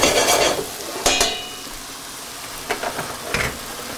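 Apples cooking in melted butter in a frying pan, a soft steady sizzle with a few sharp clinks and stirring scrapes of a utensil against the pan near the start and end.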